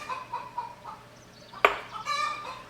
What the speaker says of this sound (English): Chickens are gonna line up to lay their eggs in the basket outside on the porch.